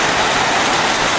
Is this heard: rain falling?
yes